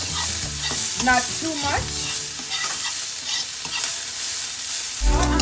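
Jamaican mackerel run down ingredients sautéing in a pan, a steady close sizzle with stirring scrapes throughout, a brief spoken remark partway through and a louder clatter near the end.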